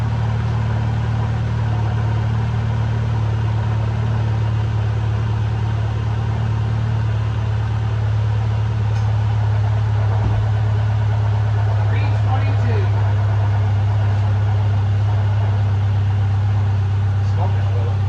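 A 2010 Subaru Forester engine idles steadily and loudly throughout, a constant low rumble with brief voices now and then.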